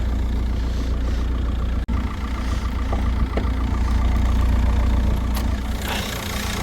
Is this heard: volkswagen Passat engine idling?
yes